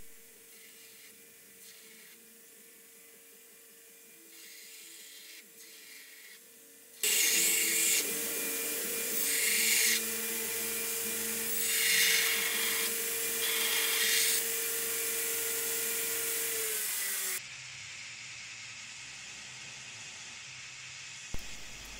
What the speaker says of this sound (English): We'll start off by grinding the profile of the blade.